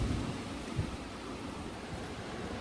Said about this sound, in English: Yeah, these are some legit gusts here.